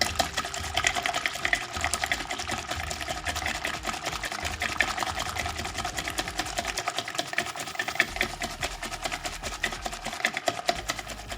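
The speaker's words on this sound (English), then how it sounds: "pop it in there and I'm going to whisk it up a little bit" Fritter batter is whisked quickly in a bowl, giving a fast, continuous rattling clatter that stays steady and close throughout, with no voices.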